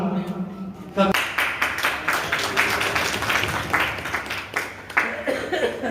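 A crowd claps at a Dhobi Mahasangh ceremony marking the parinirvan of Sant Gadge Baba and Dr. Bhimrao Ambedkar, with rapid, uneven applause rising after the first second and holding steady under a speaking voice.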